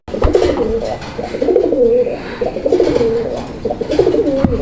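Pigeons coo repeatedly at a busy pigeon market, rolling close calls in an uneven rhythm over faint crowd noise.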